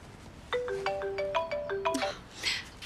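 A phone ringtone plays close by as a quick, bright melodic tune that repeats, rising and falling in short notes, followed by a brief burst of noise.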